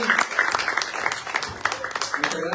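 An audience claps for Sandy at a Bible study session, steady applause of many hands lasting a couple of seconds, with voices mixed in over the clapping.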